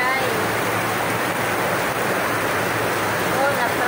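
Heavy rain pours down in a steady, dense, unbroken hiss of downpour that stays loud and even throughout, with no pauses or gaps.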